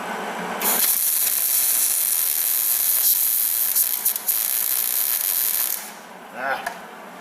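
Melted wax sizzles and hisses steadily against a hot, broken bolt, crackling like frying bacon for several seconds before dying away, followed by faint clinks.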